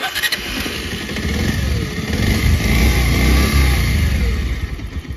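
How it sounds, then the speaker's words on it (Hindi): A Bajaj Pulsar 125 motorcycle with a throttle position sensor fault cranks and catches, then its engine revs up into a loud, close roar that holds steady before easing slightly, with no talk. "चलिए बाइक को मैं स्टार्ट करता हूँ पहले।"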